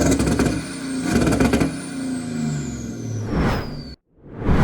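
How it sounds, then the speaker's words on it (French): A tuned BMW 435d xDrive diesel engine rumbles and revs in repeated loud bursts, rising and falling, up close, before cutting off abruptly and starting again. "tu démarres la voiture, qu'on entende le bruit"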